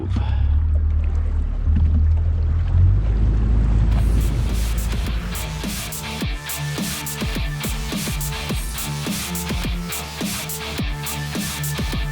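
Fishing boat outboard motor running steadily on a lake cove, its low droning hum shifting as it drops back into gear partway through, with splashing water and wind around it.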